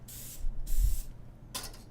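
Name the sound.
cooking oil spray on tortillas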